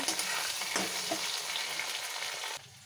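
Prawns and potatoes fry in a hot wok with a loud, steady hiss and crackle that runs continuously, then drops off abruptly near the end.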